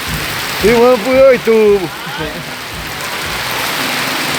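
Heavy rain in Agrestina, Pernambuco: a steady, dense hiss of downpour on surfaces fills the whole stretch, with someone speaking briefly over it near the start and no thunder evident.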